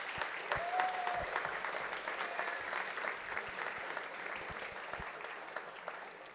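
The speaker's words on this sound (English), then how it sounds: "Please give him another round of applause." A hall full of people at a school awards presentation gives a continuous round of applause for the Principal's Award recipient, with brisk clapping at a steady level and no voices.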